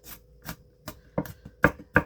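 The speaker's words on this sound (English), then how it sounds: "Now I'm doing garlic. Just chopping it in little pieces." A knife chops a clove of garlic into small pieces on a board, giving six sharp, close taps at an uneven, unhurried pace that grow slightly quicker and louder toward the end, with no talking over them.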